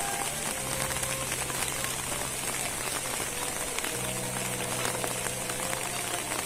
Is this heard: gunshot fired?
no